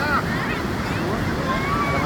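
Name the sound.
ocean waves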